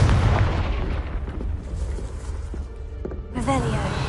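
A Confringo fire spell explodes in Hogwarts Legacy: a loud booming blast with a rolling rumble that fades, then a second sharp burst a few seconds later.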